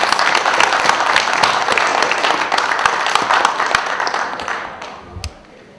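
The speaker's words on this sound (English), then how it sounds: "if you can join me in applause for our grade 11 honors recipients" Audience applause at a school fall awards ceremony for grade 11 honors recipients, dense steady clapping from a large crowd that fades out near the end.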